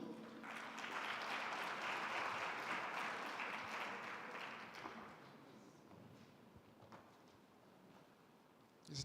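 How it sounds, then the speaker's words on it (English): Applause from an audience at a presidential inauguration, a soft, steady patter of many hands in the first half that thins out, faint and somewhat distant. "A round of applause, please."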